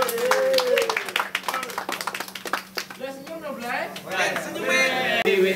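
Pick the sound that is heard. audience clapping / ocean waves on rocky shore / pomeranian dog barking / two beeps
audience clapping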